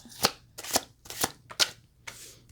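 Tarot cards being shuffled in five quick riffling bursts, close and crisp, with brief pauses between each pass and no talking.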